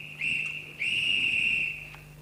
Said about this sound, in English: That's a half-time whistle.